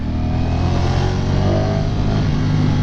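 A motorcycle engine roars steadily at high revs, loud and close, with a dense droning buzz throughout and no voices.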